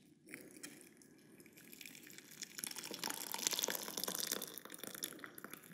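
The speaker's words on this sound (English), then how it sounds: "I'm going to fill up these beakers to exactly 200 millilitres each." Water running into laboratory beakers as they are filled to 200 millilitres for a thermal insulation practical, a steady trickling and splashing pour that grows louder and fuller midway, close by with no talk.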